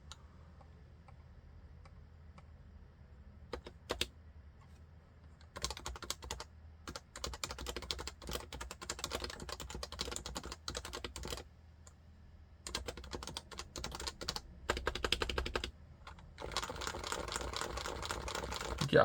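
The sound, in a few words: rattly mechanical keyboard typing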